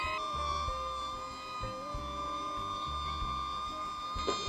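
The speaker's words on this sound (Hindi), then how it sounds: "देखिए मैंने ड्रोन को टच नहीं किया, बस वॉइस इस्तेमाल करके उसको उड़ा रहा" A small DJI Neo drone hovers and flies under voice control outdoors, its steady high-pitched propeller whine holding constant tones over a low background rumble, with a brief louder swell near the end.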